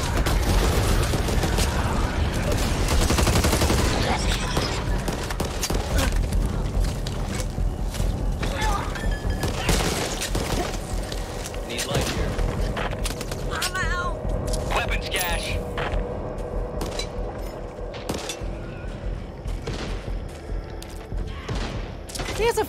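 Gunfire in the zombie shooter video game Back 4 Blood, dense bursts of shots mixed with mechanical clatter and game effects running through the whole stretch, loud and busy under shouted voices of players.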